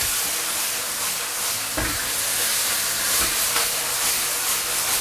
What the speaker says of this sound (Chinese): 我们就把这个芡汁放下去，用最大的火。 好，快速去翻炒它